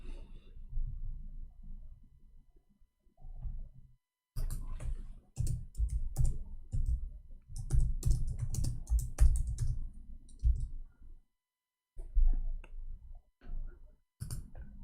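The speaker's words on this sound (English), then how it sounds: "I will type 2021." Computer keyboard typing in short clattering bursts of clicks, close and fairly quiet, separated by brief silences.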